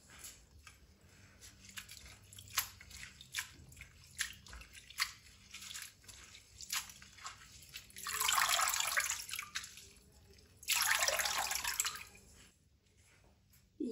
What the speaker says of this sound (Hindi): इसको छन्नी में डाल के ना, तो अच्छी तरह हम 2-3 पानी से धो लेंगे।